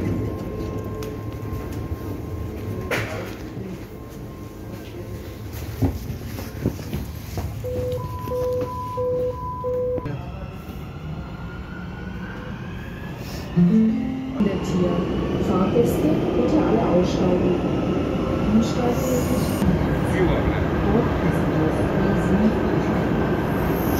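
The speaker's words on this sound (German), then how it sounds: "Unsere U-Bahn ist da." A subway train rumbles into the station with rising roar and squealing tones, beeping chimes sounding, while people talk nearby in an echoing underground space.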